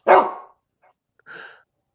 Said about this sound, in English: did I hear somebody with a dog?